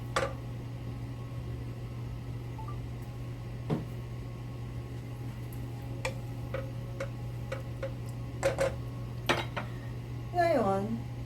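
A spoon stirs cornstarch into Filipino corn soup in a pot, giving sparse light ticks and clinks against the metal over a steady low hum, with a quick scraping swirl near the end.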